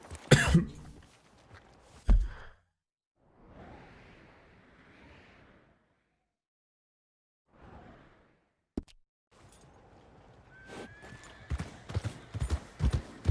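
Horse hooves clip-clop intermittently among other sounds in the video game Red Dead Redemption II, with brief soft whooshes and a few sharp knocks, separated by stretches of near silence.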